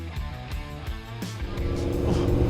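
A Yamaha V-Max motorcycle fitted with a loud, nearly unrestricted custom exhaust revs up, its engine note rising and surging close by with strong low rumble and climbing harmonics.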